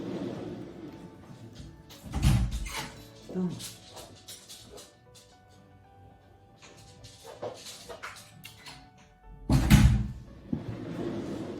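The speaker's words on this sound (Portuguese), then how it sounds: "me dá um minuto que eu vou abrir a porta para ele" A house door is opened and later shut to let a dog out, with two solid thumps several seconds apart amid quieter handling clatter, while a person speaks briefly nearby.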